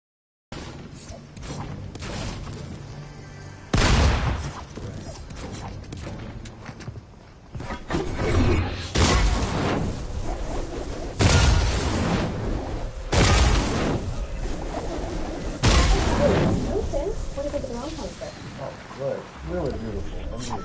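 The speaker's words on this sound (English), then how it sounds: "Really beautiful. I mean, explosions." Explosions in Fortnite burst out as several loud booms at irregular intervals over a busy game background, with a voice talking between them.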